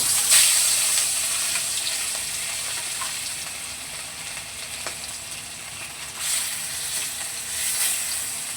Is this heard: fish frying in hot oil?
yes